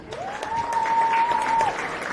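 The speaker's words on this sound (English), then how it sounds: "Give those kids a round of applause." An audience at a county fair beef show claps for the kids showing calves, steady applause for about two seconds, and a brief sustained tone runs through the middle.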